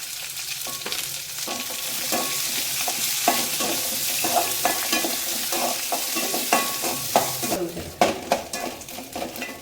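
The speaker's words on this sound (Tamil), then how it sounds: "நல்லா வெங்காயம் வதங்கணும் நல்லா ப்ரௌன் கலரில் ஆகணும்" Onions frying in a pan with dried red chillies for a Tamil puli keerai kadaiyal, a steady close sizzle broken by repeated scraping stirs and light clinks of a utensil against the pan.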